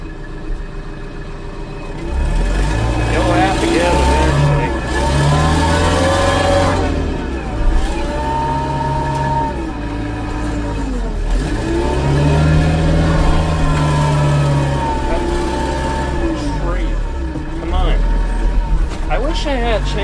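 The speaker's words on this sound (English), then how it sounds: "Oh, the tractor's lifting up." A tractor engine labors in first gear while pulling out a small tree, its pitch repeatedly climbing and sagging under load in loud surges, with someone talking over it.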